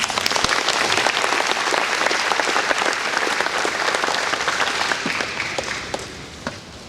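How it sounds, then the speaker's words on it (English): Sustained audience applause at an agriculture awareness event luncheon, a dense, steady wash of many hands clapping that holds strong for several seconds before thinning out near the end. "Let's give them a round of applause."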